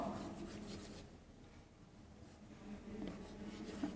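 A teacher writing on a board during a Class VI English grammar lesson, with soft scratchy strokes that come and go over about four seconds, quiet and close, with no talking.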